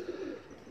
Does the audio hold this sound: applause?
no